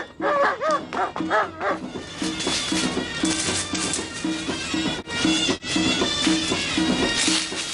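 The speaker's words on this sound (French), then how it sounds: "Préparez bien tes chiens." Several dogs bark in a steady, rapid string of loud, close woofs and yips that runs throughout, over a busy background.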